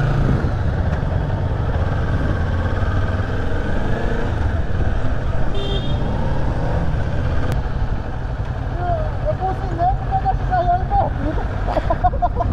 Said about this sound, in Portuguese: Vocês escutaram aí o grito do motor? Ninja 400.